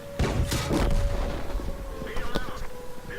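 A tank gun fires in World of Tanks with a loud, close booming blast, followed by a short rumbling tail and smaller crackling impacts.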